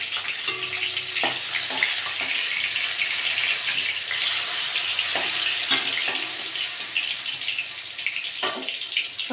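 Pointed gourd (potol) frying in hot oil gives a steady, close sizzle and crackle, with occasional soft clicks of stirring throughout.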